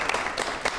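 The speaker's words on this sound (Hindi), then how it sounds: "सर के लिए ज़ोरदार तालियाँ।" A brief burst of audience applause at a career talk on management studies, a dense wash of many hands clapping, moderately loud and without voices.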